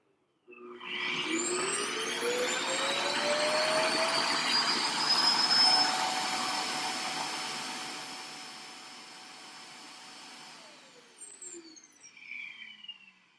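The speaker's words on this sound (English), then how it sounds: "I hate this goddamn vacuum cleaner because it's loud and it makes me project my voice" A loud vacuum cleaner runs steadily for about ten seconds with a rising whine, then winds down as the motor spins off, leaving a few brief knocks and handling noises at the end.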